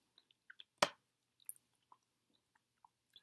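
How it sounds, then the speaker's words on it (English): A Reese's snack cake is chewed close to the mic, with soft scattered wet mouth sounds around one sharper bite, quiet between the small noises. "And when you chew it now, smooth is this nice."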